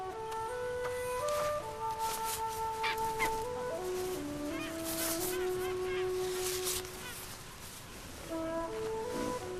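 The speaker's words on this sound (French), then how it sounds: "Ces oiseaux, des squois" Skuas calling on the Crozet Islands near an elephant seal colony, a run of loud, close, harsh cackling and piping notes that carries on through most of the clip, with faint voices and a further call at the end.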